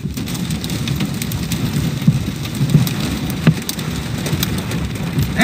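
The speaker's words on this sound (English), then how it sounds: "Hail's getting a little bigger now." Hail falls during a severe storm, making a dense, steady patter with scattered louder hard impacts over a rumbling background of wind and traffic. No one speaks.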